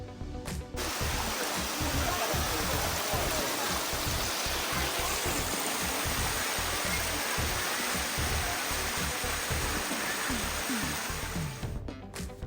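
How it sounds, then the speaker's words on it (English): Waterfall with seven viewpoints along its climb near Shamakhi or Gabala, Azerbaijan: a loud, steady broadband roar of falling water fills the whole stretch, close and unbroken, with no talk over it. "the another reason is this waterfall have 7 viewpoints upon climbing"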